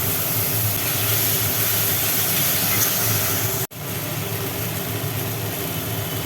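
Spiced paste of garlic, ginger, cumin and chili frying in a pan while being stirred for crab curry, a steady loud sizzling hiss throughout, with a brief dropout midway, no talk.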